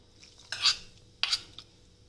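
A spoon stirring melted ghee into a ground ladoo mixture in a metal bowl or pan, with two distinct scraping clinks about half a second apart and a small tap after, fairly quiet and close.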